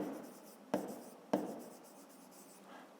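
Pen or pencil writing by hand on paper while working a fifth-grade maths exercise, a soft steady scratching broken by a few sharp taps, close and quiet.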